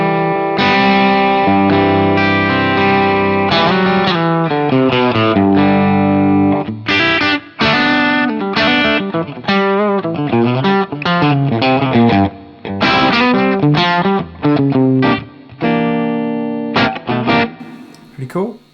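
Electric guitar through a Matchless D-30 amp model on a Fractal FM9, one side switched to a 1960 TV model, plays with mild overdrive in chords and picked lines, some notes ringing and others cut short, loud and up front.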